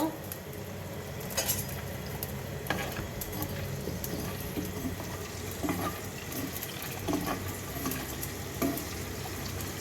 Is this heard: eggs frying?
yes